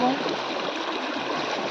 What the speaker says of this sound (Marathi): पुराचा पाणी आहे इथनं.